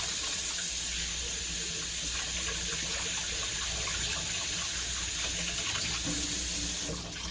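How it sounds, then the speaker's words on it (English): Tap water running steadily into a sink as hands are washed, a close continuous hiss and splash that cuts off abruptly at the end, no talking. "Just like a quick wash of the hands"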